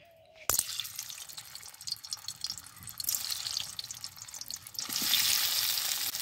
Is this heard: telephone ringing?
no